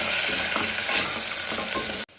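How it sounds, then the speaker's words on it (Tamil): Onions with ginger-garlic paste sauté in a hot pan for a mushroom biryani, a steady loud sizzle with stirring scrapes throughout before cutting off abruptly near the end. "இது பச்சை வாசம் போகிற வரைக்கும் நல்லா இதையும் சேர்த்து வதக்கிக்கலாம்"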